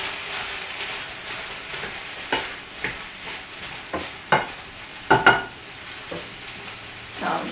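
Balsamic vinegar poured into sautéing vegetables in a pan, giving a soft steady sizzle broken by several sharper clinks and stirring knocks, no one talking.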